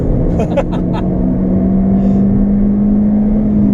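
A car, either a Ford Fiesta ST MP215 or a 2nd-generation Porsche Boxster S 986, accelerating at full throttle, heard from inside as a loud, steady engine drone with a rising tone, with a brief voice over it early on.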